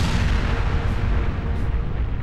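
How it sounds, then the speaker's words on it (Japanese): A sustained explosion roars aboard a cruise ship in the video game Persona 5 Royal, a loud, dense rumbling blast that fills the whole moment without letting up. "爆発。"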